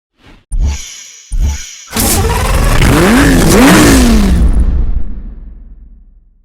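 A Lamborghini V12 supercar in Need for Speed Hot Pursuit Remastered revs loudly: two short blips, then a sustained rising roar with sweeping pitch that fades off over the final seconds, no talk.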